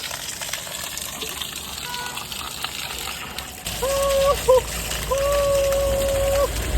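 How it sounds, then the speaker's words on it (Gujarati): A clear mountain stream near Sonprayag, Uttarakhand, flows with a steady rushing gurgle, which grows louder partway through, while whistling tones sound over it. "મસ્ત મજાનું ઝરણું પડે છે ભાઈ"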